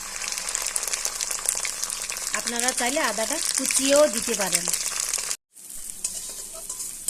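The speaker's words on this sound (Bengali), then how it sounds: "আদাটা আমার ভালো করে ভাজা হয়ে গেছে" Garlic and ginger paste fries in hot oil with a continuous close hiss and occasional stirring, a voice speaking over the middle stretch, then a brief cut to silence before the sizzle resumes.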